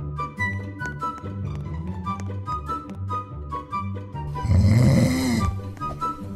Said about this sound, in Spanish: Ronca como un camión nuevo.